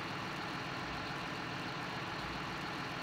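A John Deere 6170R tractor engine runs in Farming Simulator 2013, a steady, fairly quiet low-pitched idle hum with a slight periodic pulse, unbroken and with no voices over it.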